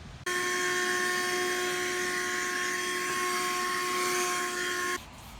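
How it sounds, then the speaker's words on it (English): A small vacuum cleaner runs with a steady whining hum while it cleans out a window track, switching on abruptly and cutting off after about five seconds, loud and close. "and just vacuum it out"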